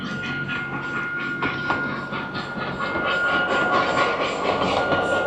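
A train runs at a station in Singapore, a steady rolling rumble with hiss and faint clatter throughout, moderately close and continuous, with no voices.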